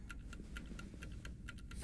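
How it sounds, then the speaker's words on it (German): An alarm clock ticks steadily and faintly, a regular even pulse of light clicks with no other sound. "Ach, der Wecker macht mich ganz verrückt."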